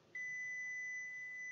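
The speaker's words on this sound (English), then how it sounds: "every time the reading goes up, my buzzer rings" An Arduino buzzer triggered by a rising MQ5 gas sensor reading starts abruptly and holds one steady, high-pitched continuous tone, fairly faint but clear against near silence.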